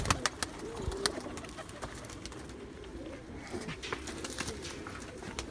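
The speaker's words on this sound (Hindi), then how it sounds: "ये आ गए जी आपके तितरे कबूतर।" Rampur Titre pigeons coo in a steady, low murmuring run, several birds overlapping close by, with a few soft flutters and clicks near the start and faint background noise throughout.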